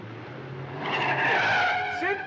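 A car in a chase from a 1962 film accelerates and then skids, a rising engine roar giving way to a loud drawn-out tire squeal that fills the second half.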